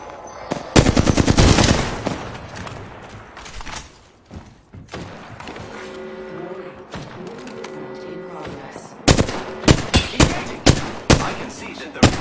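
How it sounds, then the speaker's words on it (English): Heavy gunfire in Apex Legends comes in dense, loud automatic bursts. One long volley opens the stretch and a run of rapid close shots closes it, with quieter thuds and tonal game sounds in between. "heavy shooting at me"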